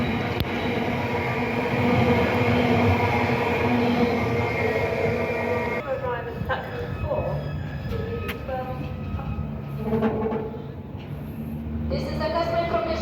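Train at a station platform on London's Elizabeth Line during a heatwave, a steady rumble with rail noise, platform announcements and some talk over it, brief squeal-like tones later on.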